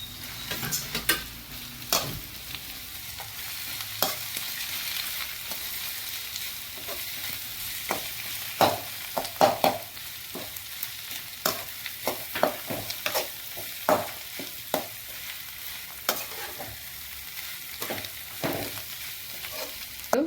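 Boiled potato filling for aloo bonda being stirred and mixed by hand in a bowl, a steady run of soft squishy strokes and scrapes with no one talking.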